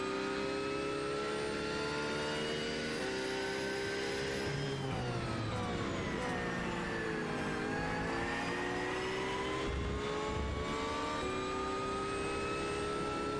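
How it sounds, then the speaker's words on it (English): A Porsche GT3 race car at Interlagos, its engine note climbing through second and third gear before dropping sharply for a tight corner, a steady loud onboard drone with rising and falling pitch sweeps. "Second gear, third gear. Right back down to first gear immediately for this very tight complex here in Interlagos."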